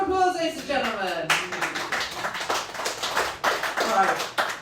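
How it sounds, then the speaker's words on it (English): Comedy show audience at a stand-up night, bursts of clapping and laughter rising and falling over several seconds while a voice talks through them. "Round of applause, ladies and gentlemen."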